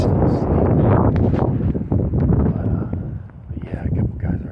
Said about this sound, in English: But it's real windy, 30, 40 mile an hour gusts.